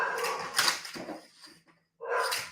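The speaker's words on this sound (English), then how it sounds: "There goes my doggone dog." A dog barks and whimpers in short bursts at a moderate distance in a home setting, with a brief gap before another loud bark, no talk over it.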